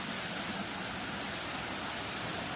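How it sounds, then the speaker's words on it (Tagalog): A small waterfall rushing steadily nearby, a dense, even wash of falling water with no breaks. "May mini falls dito."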